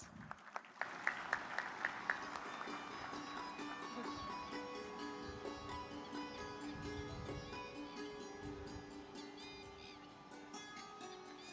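Audience applause at the inaugural session of the Vibrant Gujarat Regional Conference in South Gujarat, a few sharp claps at the start swelling into sustained clapping over a steady hall, with music tones running beneath and no speech.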